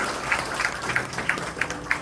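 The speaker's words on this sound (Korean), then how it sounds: "큰 박수로 다시 한번 축하드립니다." Applause at an award ceremony rolls on as a moderate wash of clapping, with a few distinct claps standing out at a regular pace.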